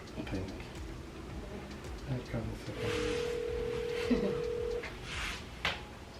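An unanswered telephone call gives a single steady ringback tone lasting about two seconds. It sits under room noise and faint talking.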